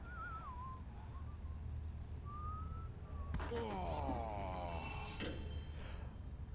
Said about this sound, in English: he was just whistling